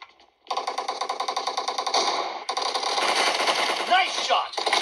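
Rapid automatic gunfire from PUBG Mobile on a Xiaomi Redmi Note 10 Pro, a loud burst of evenly spaced shots, then a short pause and dense continuous firing with a brief break near the end.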